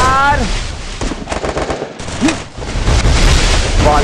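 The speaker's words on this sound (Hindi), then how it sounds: "यहाँ पे हेडशॉट लगाया जिग्स भाई ने।" Automatic gunfire in the Free Fire Clash Squad video game, a loud dense rattle of rapid shots over game effects, with a commentator talking excitedly throughout.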